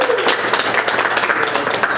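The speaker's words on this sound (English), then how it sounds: "so give our good friends at Launch applause." A conference audience in a hall applauds loudly and briskly for a couple of seconds, with many overlapping claps.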